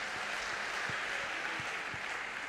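Congregation clapping during a church worship service, a continuous wash of many hands applauding in a reverberant room, steady and moderately loud.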